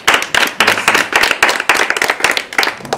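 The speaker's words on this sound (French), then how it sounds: "Est-ce qu'on peut acclamer le Seigneur?" A church congregation claps in fast, steady rhythm, many hands together, loud and close, continuing without pause for the whole stretch.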